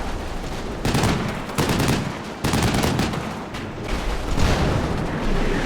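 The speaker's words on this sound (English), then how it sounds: "A well-placed machine gunner pins down the remainder of the company." Sustained bursts of machine gun fire from the WWII strategy game Combat Mission: Battle for Normandy, several rattling volleys separated by brief pauses, loud and dense with no talk over it.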